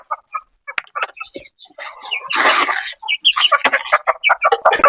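Chickens cluck repeatedly in short bursts, close and fairly loud, with a brief noisy flutter in the middle and busy clucking continuing to the end.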